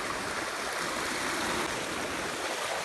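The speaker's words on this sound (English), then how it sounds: "We have made it to the river." Steady broadband rushing of a river flowing outdoors on a summer day, continuous and fairly close, with no voices.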